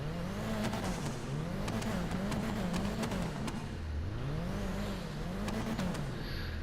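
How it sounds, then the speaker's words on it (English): A sports car engine in GTA V Online roars steadily, rising and falling in pitch as it revs, loud and continuous with no talking. "And the sound of this car is just immense."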